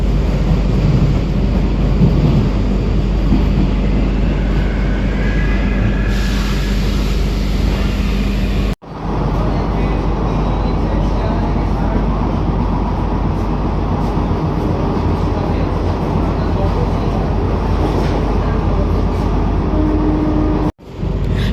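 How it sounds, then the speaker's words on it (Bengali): A Sealdah AC EMU local train rolls into Bidhannagar Road station, platform 1, on the Sealdah–Kalyani service: a loud, steady rumble with heavy wind buffeting, close and continuous, broken by two abrupt brief dropouts, with no voices. "ট্রেন এসে পৌঁছালো"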